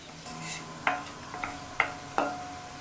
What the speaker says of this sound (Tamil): இது எல்லாம் நல்லா பொரியட்டும்.